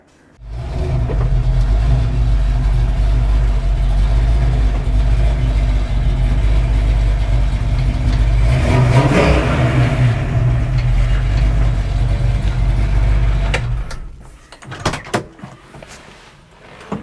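A classic Ford Mustang engine runs steadily while the car is turned around, giving a loud, close, continuous rumble with a swell around the middle before the engine cuts off, followed by a few clunks.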